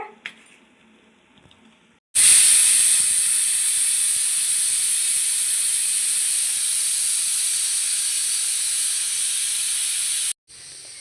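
A pressure cooker whistle vents steam while mutton cooks, a sudden loud, steady hiss lasting about eight seconds close up before cutting off abruptly.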